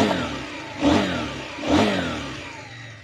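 A 2024 KTM 990 Duke motorcycle engine revs twice in sharp, close throttle blips, each rising and falling away to a steady idle, with no talking.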